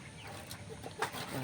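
Faint clucking from chickens somewhere off in the background, a few soft clucks over a steady outdoor hiss.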